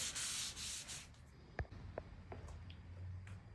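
Paper towels rubbing and wiping across the wooden surface of a vintage walnut Broyhill dresser, a steady close swishing friction with a few small knocks, fading slightly after the first second.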